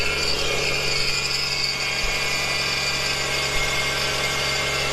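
Subaru SVX engine idling steadily after a spark plug and coil pack change, a continuous even hum close by with no talk.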